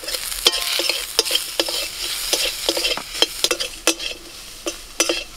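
Green banana peels are stirred with salt and turmeric in a frying pan, a steady oily sizzle broken by repeated sharp spatula scrapes and taps at an uneven rhythm, close and fairly loud, with no talking.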